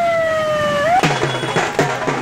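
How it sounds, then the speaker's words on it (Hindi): An ambulance caught in a heavy traffic jam during an election nomination rally in Barabanki sounds its siren continuously, a loud wailing tone that sweeps and then pulses in a steady repeating pattern, close and alone. "वहीं जाम में फंसी एम्बुलेंस लगातार सायरन दे रही थी"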